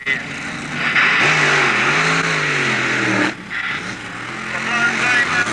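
Drag racing cars at a 1986 UK meet at North Weald launch and accelerate, loud rising engine roar that cuts off sharply then builds again, with a commentator talking over it.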